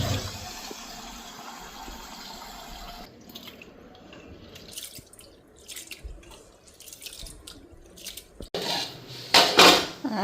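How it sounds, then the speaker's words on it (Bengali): Rice being washed in a pot: water sloshing and swirling, grains and metal clinking, with a louder pour and splash near the end, close and uneven in rhythm, no voices. "আর এদিকে এখন চালটা ধুয়ে নেই।"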